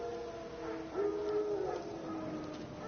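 Wild dogs howling in The Witcher 3 video game, a single drawn-out distant howl rising out of quiet ambient background.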